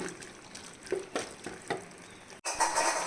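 Tomatoes sizzle and bubble in a pan while a utensil stirs them in soft scraping strokes, then the frying swells louder and hisses steadily.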